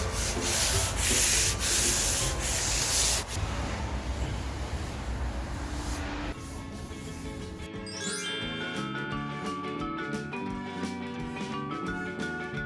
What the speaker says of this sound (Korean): 320방 사포입니다. 사포는 나뭇결 방향으로 해보시면 됩니다.